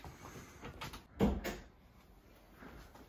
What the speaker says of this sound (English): Do you want to grab the door?